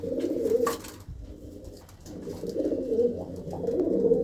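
Several pigeons coo in low, throaty bursts, rising and falling in rolling phrases close by, with a brief flutter or rustle in between and no talking.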